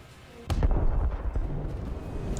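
Main battery guns of the IJN Kongo battleship firing shells in a naval video game: a sudden loud, deep boom followed by a rolling, rumbling tail and a couple of lesser thuds.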